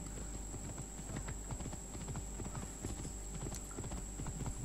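Steady clip-clop of horse hooves at a trotting pace in the video game Assassin's Creed Origins, close and continuous throughout, with a faint high electronic tone in the background.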